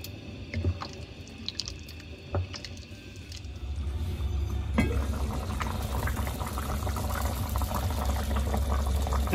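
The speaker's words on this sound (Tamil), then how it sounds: "நல்லா கொதிச்சிட்ருக்கு" A pot of brinjal and field bean tamarind curry bubbles and simmers on the stove, with scattered pops at first, then a fuller, steady boiling rumble.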